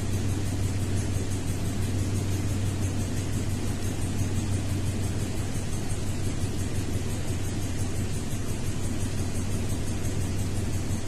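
A 2002 Toyota Tundra engine runs with cylinder 8 misfiring, giving a steady low rumbling hum that holds close and even for the whole stretch, with no talking.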